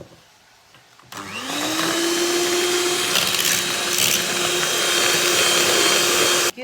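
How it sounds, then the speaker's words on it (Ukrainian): An electric mixer whips three egg whites with sugar for tiramisu, starting after a brief quiet moment and then running as a loud, steady whirring whine that holds to the end with no talking. "Ми взяли, кинули три білка і починаємо збивати."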